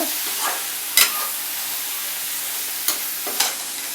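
Mixed vegetables and green chilli sauté in a pan for corn aval upma, a soft steady sizzle broken by a few sharp scrapes of a spoon stirring.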